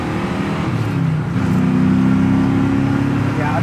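A 1970 Ford Mustang Boss 302 accelerating steadily through the gears, a loud continuous engine drone building in pitch from inside the car, with no talking.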